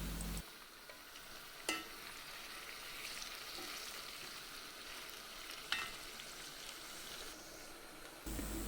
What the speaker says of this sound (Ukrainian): Гарно обжаримо цибулю і повертаємо м'ясо.